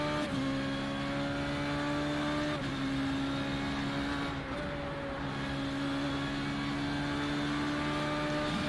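An FR3.5 race car in iRacing at Spa-Francorchamps, with a loud, sustained high engine whine and shifting revs as it takes corners at speed, alone.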